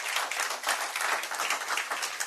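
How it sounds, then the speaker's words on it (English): An audience at a business chamber's meet-the-governor event applauds, a dense, steady burst of many hands clapping at close range with no speech over it. "Let's clap for Dr. Ndubuisi."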